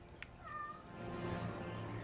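A house cat gives a single drawn-out meow at close range, fairly faint against a low indoor background hum, with no one talking.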